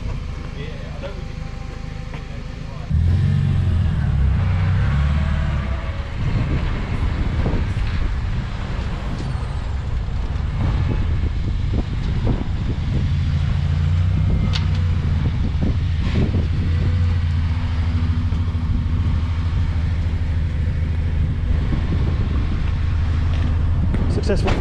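A K-swapped EG Honda Civic drives on the road, heard from inside as a steady low engine drone with road and wind noise throughout, while people talk over it.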